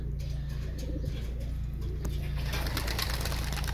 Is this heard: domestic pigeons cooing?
yes